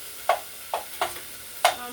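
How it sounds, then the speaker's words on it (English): Meal-prepped sausage pushed around a pan for spaghetti: four short, separate scraping knocks of the utensil against the pan, fairly close, with little steady sizzle between them. "I'm just going to get this moving around the pan."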